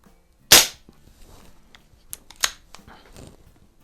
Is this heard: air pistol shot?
yes